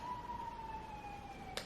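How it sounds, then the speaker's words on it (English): A distant siren wails faintly in a steady, slowly falling tone that carries through the whole moment with no voices over it. "Sorry if you can hear that siren."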